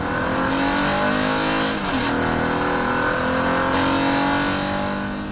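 2024 Honda Passport's 3.5-liter naturally aspirated V6 with VTEC revving hard through its rev range with a 9-speed automatic, a loud continuous engine roar that rises in pitch, dips and climbs again.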